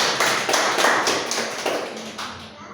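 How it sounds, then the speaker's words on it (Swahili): A church congregation claps together at an Easter service, a dense steady patter of many hands that stays loud and close for a few seconds and then eases slightly toward the end. "Si tujipigie makofi."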